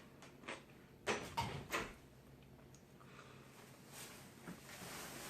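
A door opens nearby with a few thumps and clatters, then quiet rustling movement follows.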